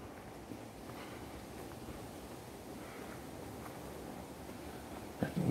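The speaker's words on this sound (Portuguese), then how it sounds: "Não tinha esse vento antes." Wind blowing outdoors along a trail in Bosque da Floresta park, a faint steady broadband rush with occasional microphone buffeting and a short louder gust at the very end.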